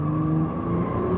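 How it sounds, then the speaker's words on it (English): A Nissan GT-R Premium on an autocross course accelerates under throttle, a sustained engine drone with a steady tonal hum, heard from inside the car without talk. "Get on the gas"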